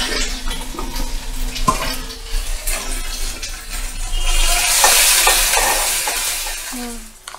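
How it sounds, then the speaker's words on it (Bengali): Spices being stirred and sautéed in a pan with salt and turmeric, a steady loud sizzle with scraping spoon strokes against the metal, and no talking. "মশলাটা আমার কষানো হয়ে গেছে"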